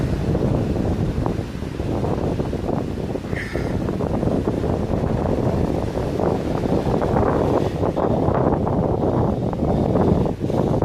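Steady wind buffets an outdoor microphone as a broad, continuous roar near a hole being worked, with low rumble throughout and no clear speech.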